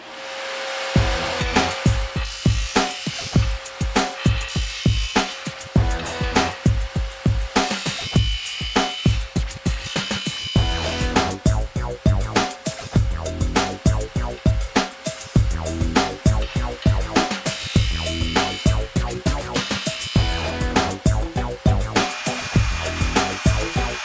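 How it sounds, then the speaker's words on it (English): A bench sander grinds stock off a connecting rod for crankshaft balancing, giving a loud steady motor whine with rhythmic, repeated grinding surges as the part is pressed and lifted. No one talks. "We're going to take it over to our bench sander, and what we're going to do is we're going to remove some stock material here"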